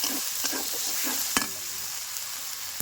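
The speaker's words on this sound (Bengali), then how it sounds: "বাটা মশলাটা টমেটোর উপরে দিয়ে দেব। ভালো করে কষে নেব তেলের উপরে।" Spice paste frying with tomato in hot oil gives a steady bright sizzle, broken by a few scraping stirs and one sharp clack near the middle.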